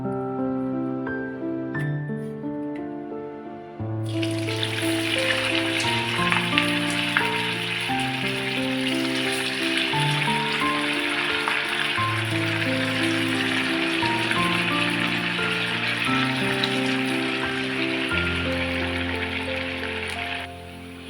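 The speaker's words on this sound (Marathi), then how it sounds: "चला तर आता आपण तेलामध्ये फ्राय करूया" Vadas for a Mahashivratri fasting plate frying in hot oil, a steady crackling sizzle that starts suddenly and continues throughout over soft background music.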